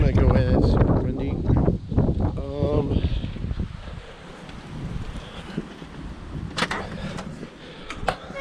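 Strong wind blows outdoors around a farmhouse property, buffeting the microphone with a roaring, gusty rush that continues on its own after a few seconds of talking.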